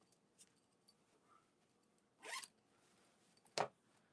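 The zipper on a sewn cosmetic bag with a front pocket is handled, giving two short, distinct zip pulls between faint fabric rustles and small clicks in a quiet room.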